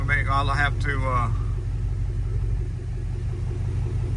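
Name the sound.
V8 truck engine running after first start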